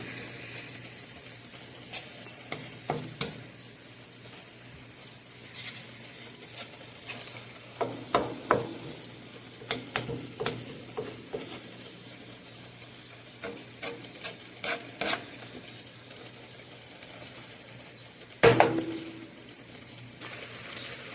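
Masala spices for tawa mutton keema roast in a pan with a little added water, a low steady sizzle broken by repeated scraping stirs and clinks of the spoon, with a louder clatter near the end.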